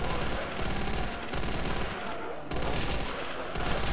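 Rapid machine gun fire rattles in dense continuous bursts from a Call of Duty Zombies game, with brief pauses between loud volleys.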